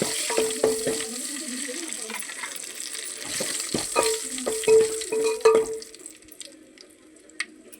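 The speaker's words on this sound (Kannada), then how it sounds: "ಒಣಮೆಣ್ಸಿಕಾಯಿ ಮತ್ತು ಕರಿಬೇವು ಸ್ವಲ್ಪ ಹಿಂಗೆ ಹಾಕತ್ತ ನೋಡಿರಿ" Dried red chillies and curry leaves hit hot tempering oil for obbattu sambar, giving a close sizzle broken by clanking stirs and spoon taps against the pan, then fading to a quieter hiss.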